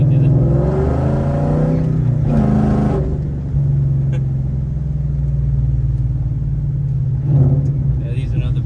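Ford Mustang with a Coyote V8 engine swap revs in short bursts over a loud, steady idle rumble, with a brief sharper rev near the start and another toward the end.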